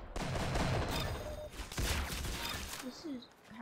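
Shotgun-like gunfire from a video game weapon sounds as a dense burst of shots, then a second volley and quieter scattered reports as the sound fades.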